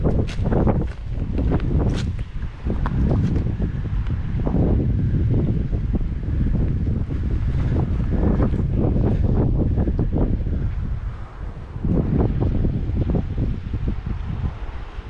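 Strong wind buffets the microphone continuously beside a river, a loud roaring rumble with gusts rising and falling.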